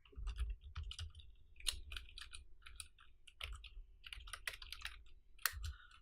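Keys clatter on a computer keyboard in irregular bursts of close clicks and taps with short pauses between runs, typed into a NuGet package manager console.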